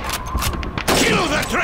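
A rifle shot in the World War II shooter Call of Duty 2 cracks loud and near, followed by a booming, rumbling tail, with voices around it.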